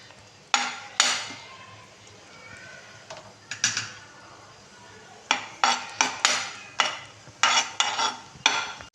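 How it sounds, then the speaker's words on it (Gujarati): Pav bhaji with butter and coriander stirred in a metal pan, a spoon scraping and clanking against the pan in irregular bursts of sharp strokes, close and fairly loud over a faint background. "થોડા ધાણા નાખશું અને સરસ રીતે હલાવી દઈશું"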